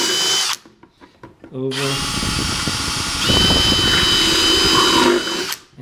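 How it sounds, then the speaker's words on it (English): A power drill bit bores into cracked acrylic plastic with a loud, steady whine. The whine cuts out briefly, then restarts and runs to the end, with a short spoken word near the start. "We're going to try and drill this out right where that crack is right there"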